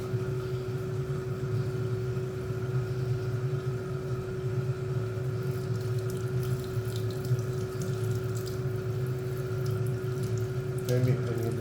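Coolant streams steadily over a lathe, a constant watery splash with a low machine hum under it and a brief clatter near the end.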